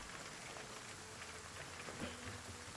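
Steady rain falling on a surface, a dense, even patter with no pauses, heard alone at moderate level throughout.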